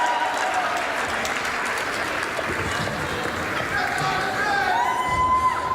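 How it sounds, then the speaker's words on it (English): Loud, steady audience applause with cheering and scattered shouts fills the whole stretch, a dense crowd clapping continuously near and far, with faint voices mixed in. "Give yourselves a big round of applause here."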